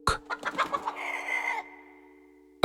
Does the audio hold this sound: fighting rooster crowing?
yes